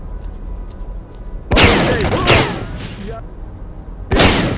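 Gunfire in S.T.A.L.K.E.R.: Call of Pripyat, two loud, close shots several seconds apart, each with a ringing tail, set against a low ambient hum.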